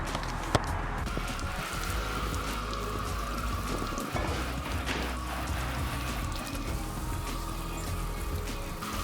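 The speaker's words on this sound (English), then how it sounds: "let's quickly get these bikes all rinsed off" Water sprays steadily as a 2021 Yamaha YZ250F dirt bike and other bikes are rinsed off outdoors, a continuous close hiss and patter on the surfaces with no talk.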